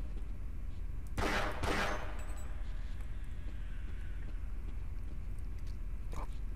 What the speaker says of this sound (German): Gott, ey, alles explodiert hier, wenn wir irgendwas anfassen.